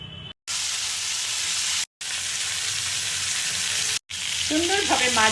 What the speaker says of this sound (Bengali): সুন্দরভাবে মাছ ভেজে নিতে হবে।